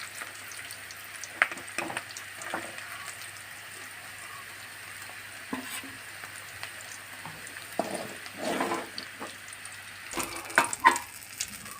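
Capsicum fries in a pan, a soft, intermittent sizzle with scattered crackles and occasional stirring clatter, fairly quiet and close, with no speech.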